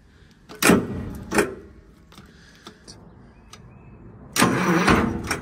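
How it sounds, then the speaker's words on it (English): An engine bought at auction cranks on its starter powered by a jump pack, giving two short bursts of starter whir early, a quiet pause with small clicks, then a longer, louder cranking run near the end. "Let's see if it'll do it with a starter."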